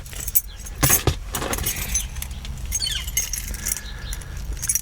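Car keys for a 1985 Pontiac Parisienne Safari Wagon jangle and clink in short bursts near the microphone, with a few louder shakes early on and softer rattling afterward.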